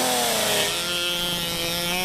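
A man imitates a chainsaw with his voice, a buzzing, revving drone with wavering pitch held steadily at close range for a couple of seconds.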